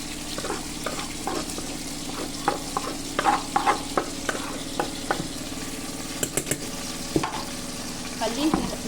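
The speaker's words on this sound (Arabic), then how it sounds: "خليه يتقلي شويه" Chicken pieces frying in oil alongside previously fried peppers, with a continuous bubbling sizzle broken by frequent spatula scrapes and clinks against the pan, close and fairly loud, with no voices.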